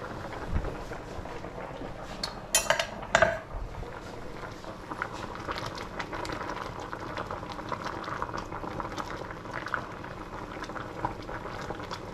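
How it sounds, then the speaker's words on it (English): Lentil soup bubbling steadily in a pot, a continuous soft rolling boil with a few louder clinks and knocks near the start, close and moderately quiet throughout. "soup has been boiling for a while"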